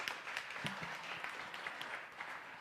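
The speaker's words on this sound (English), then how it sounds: "Please give a round of applause." An audience at a startup event claps together in a steady round of applause, fairly faint and distant, with no talk over it.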